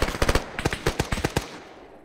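Gunfire in the military strategy game WARNO comes as a rapid burst of about a dozen sharp, loud shots. The burst fades into a short decaying tail.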